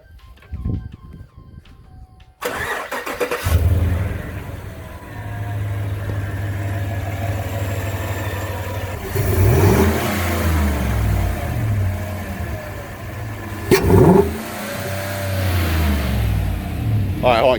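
A 2017 Chevy Silverado 5.3 V8 fitted with a Corsa cold air intake cranks over and starts after a short quiet stretch, settling into a deep idle with two sharp revs later on, heard up close with people talking nearby.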